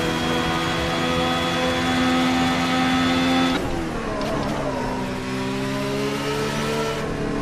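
Ferrari SF70H Formula 1 engine lapping Suzuka in Assetto Corsa, a loud sustained high-pitched whine that holds steady, then drops sharply in pitch as the car slows and settles into a lower, rising drone.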